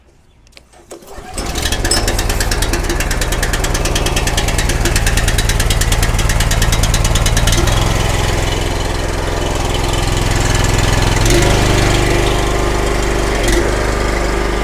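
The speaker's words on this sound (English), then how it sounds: "We've turned our on switch on. We have our choke on, our fuel on. We'll go for a start." Honda petrol engine on a 4000-psi 15-lpm pressure cleaner, pulled into life after a second or so, then running loud and close with a steady rapid chugging drone that wavers slightly in pitch.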